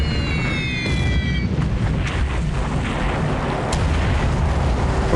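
Bombs exploding on transport ships in the naval war game War Plan Orange: a continuous loud, rumbling wash of blasts and roaring noise, with a whistling descent early on and a sharper burst near the end.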